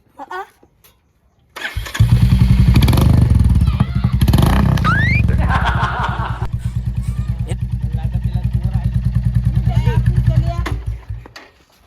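A motorcycle engine starts up around two seconds in and keeps running loudly, revving and then settling into a steady throbbing idle, with voices talking over it.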